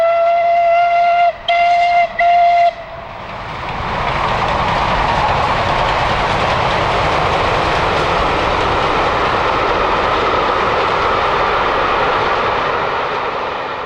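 Southern Railway steam locomotive 35028 Clan Line gives a few sharp whistle blasts, then runs past as a loud, continuous roar of exhaust and rolling wagons that holds steady to the end.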